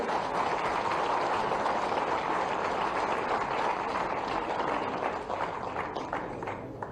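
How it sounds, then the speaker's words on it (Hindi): Loud, dense applause from an audience at a Friends of Madhya Pradesh gathering in London welcoming the visiting Madhya Pradesh chief minister, sustained steadily for about seven seconds and easing slightly at the end. "मिलके एक बार फिर से तालियां हो जाए, जोरदार तालियां।"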